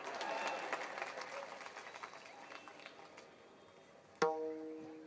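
An audience at a devotional kirtan claps in a steady burst of applause that fades out, followed by a sudden sharp ringing strike near the end.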